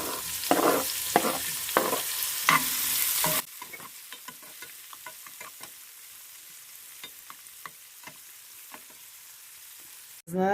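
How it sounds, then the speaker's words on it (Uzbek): Sliced red and green bell peppers fry in a skillet with a loud sizzle and spatula stirring scrapes for a few seconds, then the sizzle drops to a quieter crackle with occasional stirring taps. "Shungacha qovurib olamiz."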